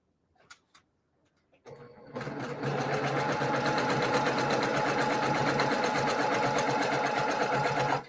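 Sewing machine running steadily while stitching quilt blocks together for a sampler quilt, a fast even needle rhythm that starts after a few brief taps and then runs loud and close without pause.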